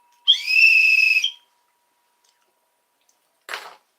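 A short bright sound-effect whistle sustains for about a second at close range, followed after a pause by a brief breathy burst.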